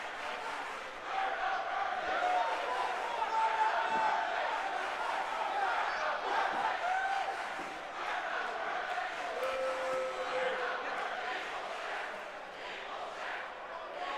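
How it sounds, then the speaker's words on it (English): An arena crowd in the WWE 2K22 wrestling video game chants in unison, a sustained loud roar of many voices with a rhythmic rise and fall lasting throughout. "Crowd saying they're not worthy."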